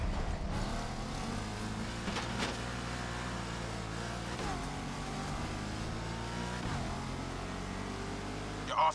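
A supercharged V8 race car roars continuously in The Crew Motorfest, its engine note climbing and dropping through several gear changes and revs, loud and close, with no pauses.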